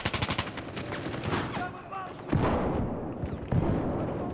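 Gunfire in a multiplayer video game session, sharp percussive shots in a rapid burst at the start, then a few louder isolated bangs later over a busy game soundscape.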